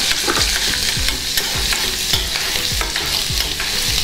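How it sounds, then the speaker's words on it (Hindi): Finely chopped green chilies sizzle in hot oil, a loud, constant frying hiss broken by regular rhythmic scrapes of a spoon stirring the pan, close and uninterrupted, with no speech. "अभी ऑयल हमारा गरम हो गया तो मैं डाल रही हूँ इसमें हरी मिर्च बारीक कटी हुई है"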